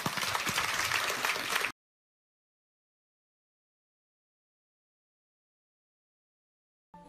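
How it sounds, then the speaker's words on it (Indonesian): Audience applause fills a church, a dense wash of clapping heard up close for under two seconds before cutting off abruptly to silence. "Anda boleh tepuk tangan."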